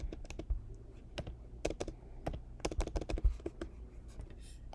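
Keys clatter on a computer keyboard in quick, irregular bursts of close, crisp taps with short gaps, quiet overall and with no talking.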